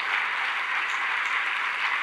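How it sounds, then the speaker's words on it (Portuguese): Steady applause from a church congregation fills the space, a dense continuous wash of many hands clapping together at an even level with no pauses. "Isso, vamos aplaudir."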